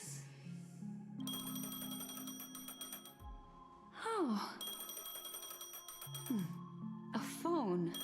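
A phone rings in the Honkai Star Rail video game, two separate stretches of bright repeating electronic ringing with a gasp and a short spoken reaction between them.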